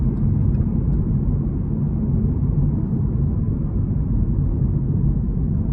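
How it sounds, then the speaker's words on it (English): A 2023 Chevrolet Camaro 1SS 1LE V8 runs on a test drive, giving a steady, loud low engine rumble with road noise that holds without break and without talk. "starting the test drive in this 1SS 1LE Camaro, of course there is plenty power here"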